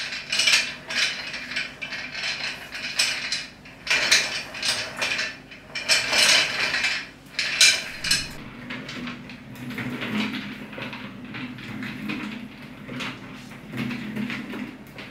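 The wheelbase and caster wheels of a Trendi FOA99 office chair roll back and forth, giving repeated bursts of close, rattling mechanical clicks and whirring that swell and fade for several seconds with no speech.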